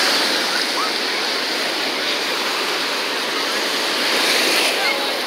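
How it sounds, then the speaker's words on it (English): Larger waves crash and wash up onto a beach in a dense, continuous roar, heard up close with a slight swell toward the end and wind buffeting the microphone. "The bigger waves."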